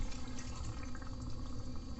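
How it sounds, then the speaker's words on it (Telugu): Half a glass of water poured into village-style crab masala in a pan, a brief soft splashing pour heard alone. "ఒక 1/2 గ్లాస్ వాటర్ వేసుకున్నాను"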